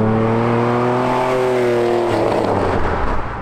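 A fuel-injected Ferrari 512 BBi accelerates hard from close by, its engine note loud and climbing steadily in pitch before breaking into a rougher, denser roar near the end.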